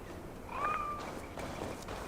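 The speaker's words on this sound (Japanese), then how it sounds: "でもアサシンクリードバルハラの猫はねでかいんですよね。" A single cat meow from a large cat in the video game Assassin's Creed Valhalla, a short rising then level call, moderately loud over a steady game ambience, with no talking.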